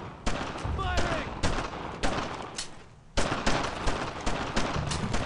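Rapid bursts of gunfire fill a World War II firefight in the Brothers in Arms shooter, dense crackling volleys repeating every second or so with a brief lull near the middle, shouted voices mixed under the shots.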